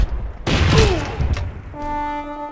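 Gunfire rings out during an attack on a city in the strategy game Civilization 4 Colonization: a loud burst of rapid shots and booms with a descending whistle, followed by a sustained tonal game sound.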